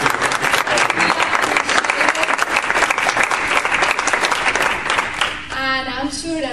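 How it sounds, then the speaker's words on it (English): An audience gives a full, dense round of applause that holds steady, then thins out near the end as a voice starts to come through. "Let's give him a round of applause."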